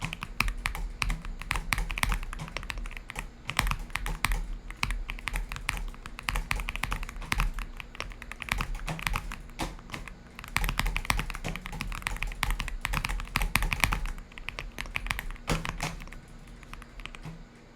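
Rapid, steady typing on a $70 gaming keyboard with a stocky, creamy sound, dense clicky keystrokes throughout, close and fairly loud, with no talking.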